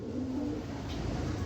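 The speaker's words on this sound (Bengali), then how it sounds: "এখানে এক পেয়ার আফসান গিরিজেল কবুতর দিলাম" A pair of Afshan Girijel pigeons coo softly, with one brief low throaty call near the start over steady background hum.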